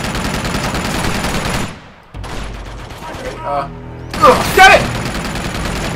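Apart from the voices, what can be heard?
gunfire in video game Uncharted 2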